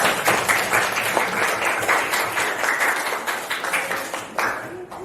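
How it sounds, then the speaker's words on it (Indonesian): Sustained applause from a classroom audience for the first group of students in a school teaching session, dense continuous clapping for about five seconds, easing slightly toward the end. "Terus tepuk tangan ke kelompok 1."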